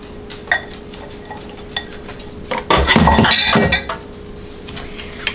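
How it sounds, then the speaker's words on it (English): A wooden spoon stirs pumpkin cornbread batter as wet ingredients are mixed into dry ones in a bowl. A short burst of scraping and light clinks rises about midway, with faint taps before and after. "I am just going to use a wooden spoon, and we're just going to stir it until everything is fully incorporated."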